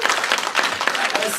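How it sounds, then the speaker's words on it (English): Convention audience applauding at a CONvergence panel, a brief burst of mixed clapping and cheering from a room of people, loud and close, with some crowd voices mixed in. "give yourselves a round of applause"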